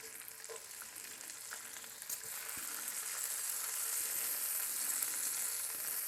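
Bacon frying in a pan, a close, steady crackling sizzle that grows slightly fuller and louder midway, with a faint tong click near the start and no voices.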